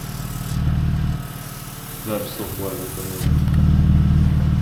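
A BMW E39 520i fitted with a new exhaust idles and rumbles close by, with engine swells and speech from people nearby over it.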